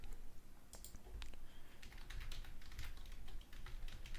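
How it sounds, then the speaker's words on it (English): Rapid clicking of a computer keyboard as someone types a keyword, a steady, quiet stream of keystrokes close to the microphone with no talking. "we're going to type our main keyword here"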